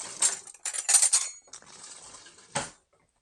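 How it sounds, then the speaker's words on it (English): A pan and utensils clink and scrape while eggs cook in butter, with several close, crisp metallic clatters in quick bursts before it falls quiet. "I'm going to cook these in butter this morning"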